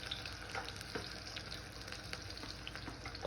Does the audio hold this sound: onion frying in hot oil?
yes